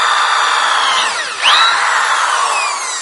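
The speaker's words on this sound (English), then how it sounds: "when you're drilling down, you're just going to hold it right straight down here like this" A power drill bores straight down through material, its loud high whine holding steady, then briefly dipping and surging as the bit bites and pushes through, with no talking.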